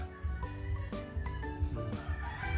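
Chickens and a rooster in a backyard flock, with repeated clucks and short calls at a steady, uneven rhythm, fairly close but soft.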